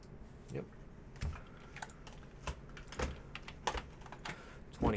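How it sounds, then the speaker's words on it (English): Typing on a computer keyboard at a trading card case break, scattered key clicks and taps in an irregular rhythm, fairly faint over low room noise. "Let Cortese finish typing those in"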